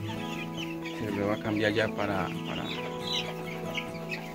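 Two-week-old broiler chicks and chickens cluck and chirp steadily in the background while a person speaks over them at close range.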